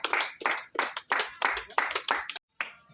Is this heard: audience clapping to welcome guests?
yes